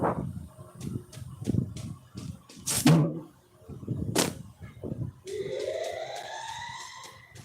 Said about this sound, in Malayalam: അടുത്ത സൈറൺ ഇറങ്ങി